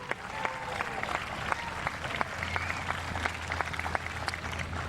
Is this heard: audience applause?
yes